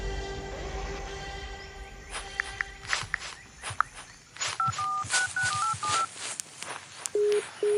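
Short tonal beeps of a telephone being dialed, several quick keypresses in a row followed by a ringing tone, set against light rustling and soft ambient noise.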